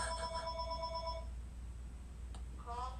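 A telephone bell rings in repeated bursts for over a second, then breaks off and sounds again briefly near the end, over a steady low room hum.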